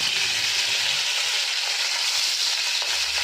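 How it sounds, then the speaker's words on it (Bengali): Hilsa fish pieces frying lightly in hot oil give a continuous bright sizzle and crackle, steady and fairly close, with a few soft low knocks from the pan. "সব মাছগুলোকে আমি হালকা করে ভেজে নেব।"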